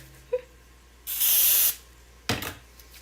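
Cooking spray hisses from an aerosol can over sticky s'mores mixture in a single long burst, with a shorter spurt after it, close and loud, with no talking.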